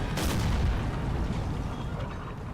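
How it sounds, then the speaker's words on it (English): Enemy cannon fire in Empire: Total War, a deep booming report followed by rumbling battlefield noise and scattered distant blasts, loud and continuous. "They're shooting cannons back at us, the cheeky bastards."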